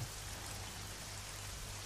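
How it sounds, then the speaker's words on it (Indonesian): Steady rain falls in an even, soft hiss that continues without a break for the whole moment, with a low hum sitting underneath and no voices. "aku bisa dengar suara hujan di situ"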